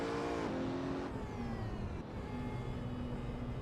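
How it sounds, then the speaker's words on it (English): Racing car engines on the Nordschleife in the Assetto Corsa racing game drone loudly and steadily, with revving pitch shifts and gear changes as cars pass, no talking. "enjoy the sounds of these cars now"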